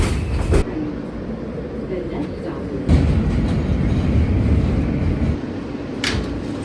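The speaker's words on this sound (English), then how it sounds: "Let's see if we have better luck with this Z train" A New York Z subway train rumbles along the track with a steady, loud rolling roar, brief rattling clicks and a few sharp squeals, heard from inside a crowded car with faint talk beneath.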